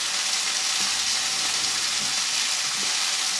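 Pork chops searing in a frying pan, a continuous even sizzle holding steady throughout with a few faint low bumps, close and unaccompanied by talk.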